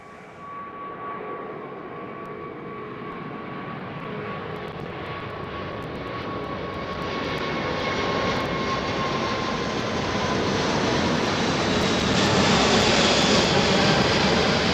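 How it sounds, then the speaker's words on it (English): An Etihad Airbus A380 jet rolls for takeoff at London Heathrow runway 09R, a broad rumbling roar building steadily louder over fifteen seconds with a faint whine running through it. "hopefully this is Etihad's 380"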